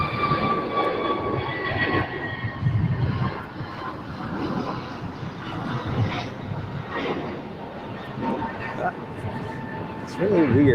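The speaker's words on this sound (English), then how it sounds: "get the ANA 777 landing on 24 left" An ANA Boeing 777 landing on runway 24 left at LAX gives a sustained, distant jet roar with a whining engine tone that swells near the end. Someone talks over it throughout.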